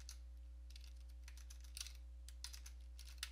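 Fast typing on a computer keyboard, a quick irregular run of crisp key clicks close up over a quiet electrical hum.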